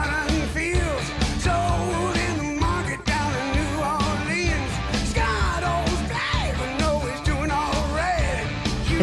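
Bluesy rock cover performed with full band, guitar and a loud, strained rock vocal driving continuously throughout.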